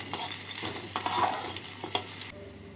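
Chopped garlic, six cloves, stirred in hot spiced oil for Bengali masoor dal, a close steady sizzle broken by a few spatula scrapes, then dropping to quieter frying near the end, no voices.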